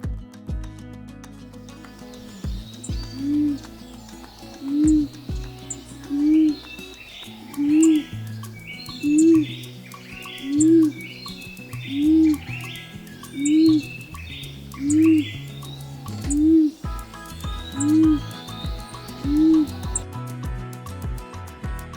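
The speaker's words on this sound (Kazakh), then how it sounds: "Көгершін." A pigeon coos in a slow, regular series of soft, rounded calls, about a dozen evenly spaced over the stretch, close and clear above a faint twittering and patter in the background.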